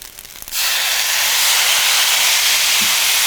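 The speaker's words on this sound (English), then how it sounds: "After our rice is cooked, we're gonna deglaze with some of our fancy sake." Cooked fried rice in ghee, deglazed with sake, bursts into a loud, steady steam sizzle that rises abruptly after a brief quieter moment and holds strong without any talking.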